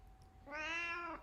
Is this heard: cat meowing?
yes